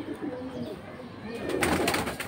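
Pigeons at a bird sale, including a female high-flying pigeon, give low throaty coos up close, followed by a burst of rustling, flapping noise.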